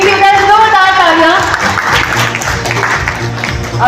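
Loud audience applause breaks out at a third foundation day celebration in Lucknow and carries on as dense clapping after a voice at the start.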